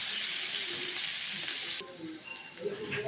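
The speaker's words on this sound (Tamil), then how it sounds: "இங்கே பாருங்கள் ஃப்ரெண்ட்ஸ், வெங்காயம் வதங்கிட்டு இருக்குது." Chopped onions sizzle in hot oil in a pan while being cooked for Kanchipuram idli, a loud, steady hiss that drops away suddenly, leaving softer crackles and light stirring sounds.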